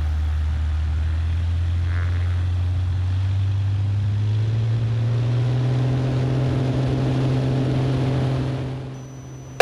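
A Van's RV-10 light airplane's piston engine drones steadily at full takeoff power, a loud, close, continuous roar whose pitch climbs gradually as it accelerates down the runway, then eases slightly at the end.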